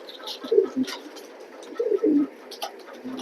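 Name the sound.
pigeons cooing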